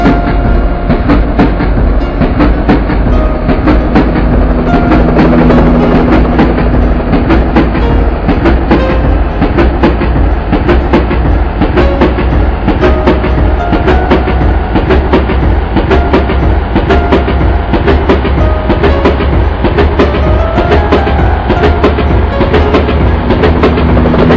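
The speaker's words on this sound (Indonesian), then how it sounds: "Contoh, kereta api melalui lintasan lurus." A train rolls steadily along the track, loud and close, with continuous rumbling and a rapid, regular clickety-clack of wheels over rail joints.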